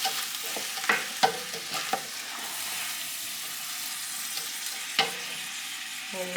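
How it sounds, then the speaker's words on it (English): Roasted beetroot and carrot are stirred into a pot of farmhouse borscht, giving soft scraping and clinking spoon sounds over a gentle sizzle, close and fairly quiet with no talking. "This roasted beetroot and carrot can go in. Give it a good stir."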